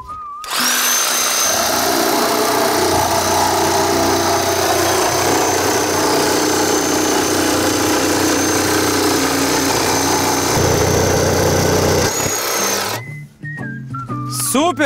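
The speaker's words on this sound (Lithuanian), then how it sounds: "norėčiau pamatyti, kaip elektrinis pjauna." An electric saw cuts through a slate roofing sheet, a loud, steady high-pitched whine and grinding roar held for about twelve seconds before it stops abruptly, followed by brief clatter.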